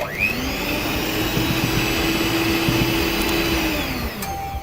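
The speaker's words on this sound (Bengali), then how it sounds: "এখন বিটারের সাহায্যে একটু ঘুরিয়ে নিচ্ছি" An electric beater whirs steadily through whipping cream in a box for homemade vanilla ice cream, a close, loud, continuous motor hum that holds its pitch and then winds down at the end.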